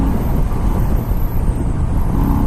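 Harley-Davidson Sport Glide FLSB motorcycle with a 107 engine overtaking on the road, a steady loud engine drone under heavy wind roar throughout.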